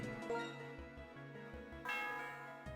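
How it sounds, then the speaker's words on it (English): A bell rings out in Pokemon White 2, struck several times with a steady, resonant tone that carries clearly and alone, swelling brighter near the end. "May the peaceful sound of the bell allow you to find happiness in the afterlife."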